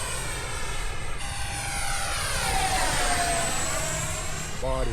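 A model airplane engine at full power roars in a loud, sustained whine with a pitch that shifts as the aircraft passes, close and continuous over the whole stretch.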